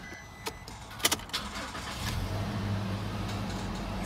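A 2017 Toyota Hilux engine cranks with a few sharp clicks, then catches and settles into a steady, close idle that hums on alone without talk.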